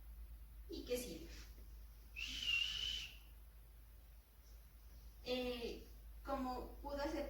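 A person whistles during a facial nerve exam: one clear, steady whistle of about a second, set between stretches of speech in a quiet room.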